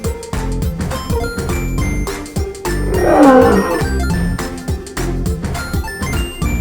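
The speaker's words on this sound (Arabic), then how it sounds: "lion أسد." A lion's deep, rumbling roar swells in the middle of a steady backdrop of chiming, tinkling musical tones, loud and close, with no voices.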